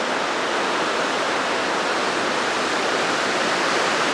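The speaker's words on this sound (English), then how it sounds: "let me go wash them off again" Running water poured steadily over freshly cleaned perch fillets, a close, constant broadband rush with no pauses and no voices.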